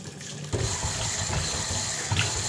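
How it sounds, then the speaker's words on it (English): Hot water runs from a bathroom sink tap, a steady close hiss and splash that starts abruptly and flows on without a break. "Ooh, and hot water."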